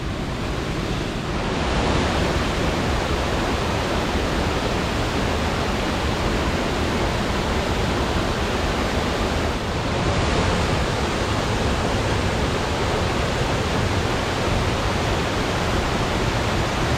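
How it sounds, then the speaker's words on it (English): Waterfall on the Coleman River trail, seen through the trees on a wooded hike: a constant, loud, broadband roar of rushing water that holds steady throughout, with light wind buffeting the microphone. "You see the waterfall right here through the trees."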